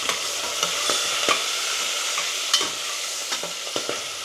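Guar beans are stirred in a hot pan, producing a steady sizzle with sharp, irregular scraping and clacking strokes from the spoon. The sound is close and fairly loud, and no one speaks.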